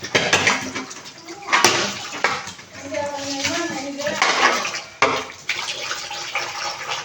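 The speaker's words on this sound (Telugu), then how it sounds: "గిన్నెలు కడగాలి, బాసలు తోమాలి, అండ్ ప్లేట్ కడగాలి" Pots, pans and plates being washed and scrubbed by hand, with running water, clinks of metal dishes and scraping, a sharp knock partway through, and a voice talking intermittently over the washing.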